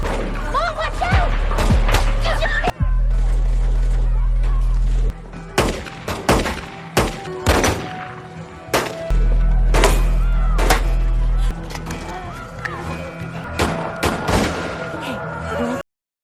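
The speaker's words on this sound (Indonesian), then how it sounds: "aksi tembak-tembakan sengit terjadi antara dua kubu yang sama kuatnya tersebut" Fierce shootout between two evenly matched sides in a dramatic series, with rapid bursts of gunfire and sharp cracks coming in clusters, loud and near, mixed with shouting voices and narration.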